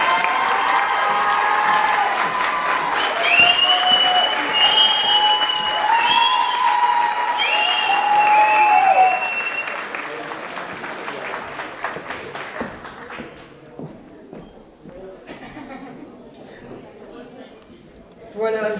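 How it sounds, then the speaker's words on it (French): Applause from an audience at a Miss Belle en Forme beauty pageant election in France, steady clapping under a presenter's talk, fading somewhat partway through before a brief late burst. "Et un tonnerre d'applaudissements pour Céline, notre 3e dauphine France 2021."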